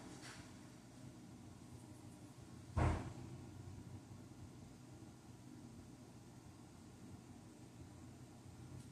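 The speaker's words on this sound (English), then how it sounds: "opening the back door." A back door being opened in a quiet house, a single brief knock or clunk of the door mechanism against a steady low background hum, with no talking.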